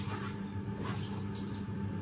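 Water sloshing and lapping steadily in a bathtub as a child splashes, a low continuous watery wash with no talk.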